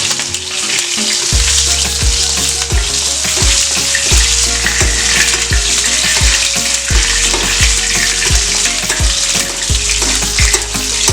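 Fish frying skin-down in olive oil in a pan, a loud, steady sizzle with repeated scraping and stirring strokes from a utensil, close up with no talking.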